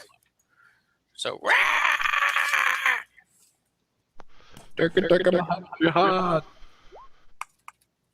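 A game master imitates a kobold's screech with his own voice, two loud, strained shrieking bursts separated by a pause, with clicking noises faintly nearby.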